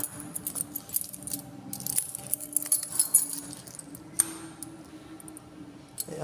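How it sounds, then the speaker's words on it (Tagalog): Large keys jangle at a condo room door in quick metallic bursts, close and fairly loud, with soft rattles and ticks between them and no talking. "Laki ng susi."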